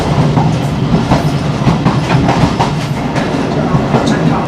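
Pakistan Railways train running at about 50 between stations near Wazirabad, a close, continuous rumble with rapid irregular clickety-clack of wheels over rail joints from the guard cabin.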